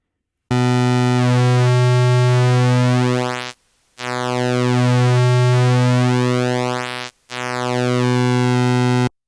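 A Korg MS-20 synthesizer sounding a sustained buzzy pulse wave whose width sweeps back and forth, making the tone thin and thicken, heard as three loud held notes separated by two brief gaps, with no talking.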